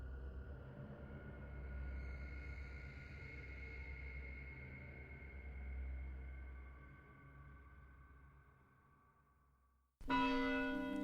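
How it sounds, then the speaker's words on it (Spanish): Deep church bells toll with long, resonant hum that slowly fades, followed by a sudden louder, brighter chime near the end. "Los toques de las campanas."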